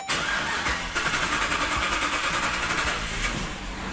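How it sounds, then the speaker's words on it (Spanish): A vehicle engine being cranked to start, slow to catch because of a faulty fuel pump, heard as a loud, steady grinding drone throughout the few seconds, close up and with no talk. "vamos a buscar de encender el vehículo"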